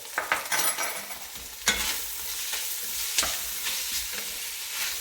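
Leeks stirred through melting butter in a pot, with bacon already in, give close, steady sizzling broken by several scraping strokes of the spoon, without any talk.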